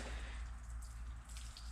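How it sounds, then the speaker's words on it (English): Water drips and squishes faintly, close by, as a wet Uni foam air filter from a Yamaha YFZ 450 is squeezed out by hand, with soft, brief liquid spatters. "I just squeeze it in my hands."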